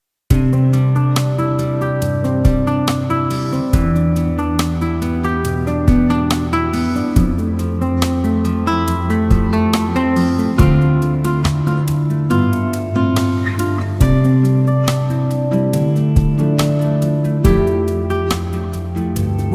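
A drum pattern built from session ideas plays under chordal backing, with a fill that walks up into the next section; a steady, full groove with regular accents, prominent and continuous with no talking.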